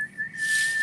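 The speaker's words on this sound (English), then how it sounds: "Got kettle whistling" A kettle shrills with a steady high whistle that holds one pitch throughout, growing louder and breathier partway through, with no voices alongside.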